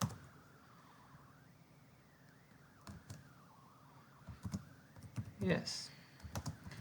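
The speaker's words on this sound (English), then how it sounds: "So let's type up another sentence." Keys clatter on a computer keyboard as a sentence is typed, soft and close at first and then a quicker burst of louder clicks, with a short spoken word in the background.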